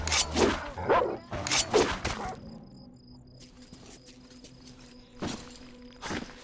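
Two dogs in the video game Metro Exodus bark and yip in several loud, close bursts over the first two seconds, followed by quieter footsteps and faint game ambience, with another short bark near the end.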